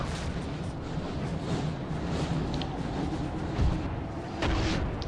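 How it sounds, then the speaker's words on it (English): Artillery fire in the Napoleon Total War Darthmod battle, with booming rumbles and occasional sharper reports over a continuous roar of battlefield noise. No voices are heard. "Get the artillery firing on these guys."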